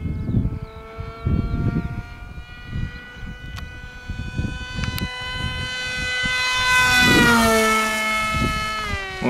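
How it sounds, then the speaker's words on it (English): A Volantex Ranger pusher RC glider makes a fast full-throttle flyby, its electric motor whine rising in pitch and swelling louder as it approaches, with a steady tonal buzz over outdoor background noise. "One fast flyby."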